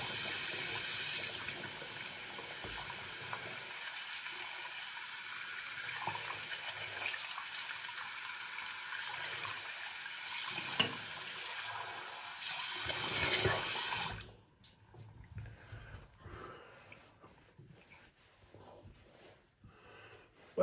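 Fresh water running from a tap into a sink in a barbershop, a steady hissing splash for about fourteen seconds before the flow cuts off, leaving quieter drips and room sounds.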